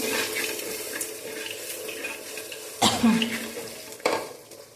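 Shallots sauté in a pan for a sardine theeyal curry, with a steady wet sizzle and stirring under it and two sharp spoon-against-pan knocks near the end.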